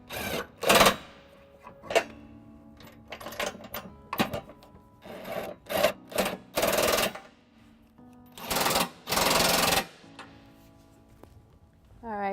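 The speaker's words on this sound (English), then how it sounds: "we're going to use a cordless impact 5" and 11/16 to tighten up the nuts" A cordless impact wrench tightens trailer hitch nuts on a 2017 Subaru Forester, firing in several short, loud, rattling bursts of uneven length, separated by quieter handling noises.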